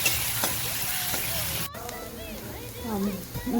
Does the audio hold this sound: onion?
yes